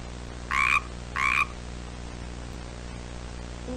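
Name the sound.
frog croaking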